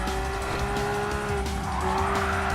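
Porsche race car, a 911 GT3 RS in a Porsche Cup race in Gran Turismo Sport on the Dragon Trail Seaside track, sliding with steady tire squeal over a sustained engine drone, loud and close, no talk.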